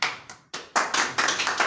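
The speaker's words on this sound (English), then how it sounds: "And we clap for Jesus as he's listening to me." A few people clapping in a church service, starting with sparse separate claps and building into a quick burst of overlapping hand claps, fairly close and without talk.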